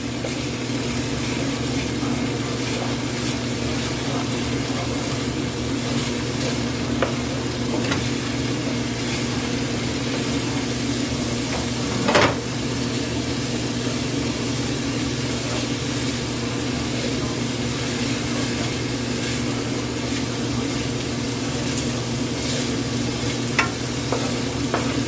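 Garlic frying in a pan for a low carb keto cheeseburger bowl, a steady broadband sizzle with stirring scrapes running continuously, near and moderately loud, with one brief sharper clatter midway and no talking.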